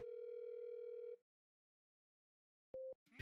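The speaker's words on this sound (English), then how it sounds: "I'm calling the phone" A ringing tone on a phone call in the video game Zodiac Axis: one steady electronic ring of about a second, then silence, then the start of a second ring, clear and close with no talk.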